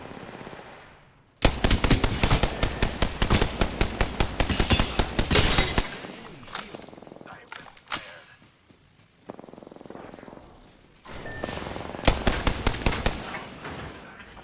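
Rapid automatic gunfire from a battle royale video game, loud bursts from about 1.5 to 6 seconds, scattered single shots afterward, then another rattling burst near the end.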